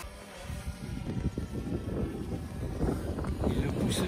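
Wind blows outdoors in strong, rushing gusts that buffet the microphone with a low, fluttering roar, and the noise builds steadily in loudness.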